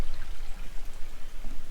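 Stream feeding the waterfall at Falling Waters State Park, a short stretch of steady trickling, splashing water with low rushing noise, even and unbroken.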